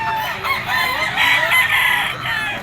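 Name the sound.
young rooster (stag) crowing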